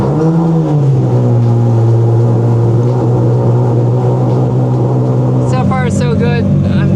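Ferrari 550 V12 engine on a cold start with a new exhaust, a loud steady idle drone throughout with a brief blip of revs near the end.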